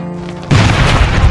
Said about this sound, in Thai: อ้าวมีระเบิดเฉยเลย